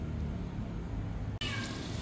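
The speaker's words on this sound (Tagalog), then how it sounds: "Kaya naririnig niyo po yung pusa namin." A cat meows once, loud and close, a short drawn-out call searching for its kittens, over a steady background hiss from a kitchen where chicken and shiitake mushrooms are stir-frying.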